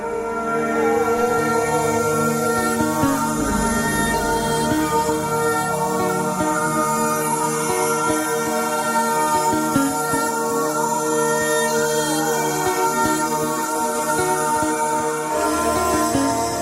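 A recorded song plays steadily and loudly, a sustained harmonic musical track with no talking over it.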